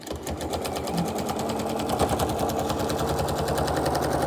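A sewing machine fitted with a specialty foot quilts through fabric, running steadily and continuously with a fast rattling needle rhythm, close and loud throughout.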